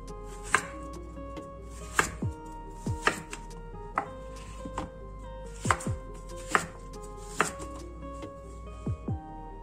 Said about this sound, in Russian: Кабачки берем молодые, молочные, и делим их на сектора.